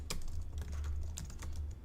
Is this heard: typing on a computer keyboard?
yes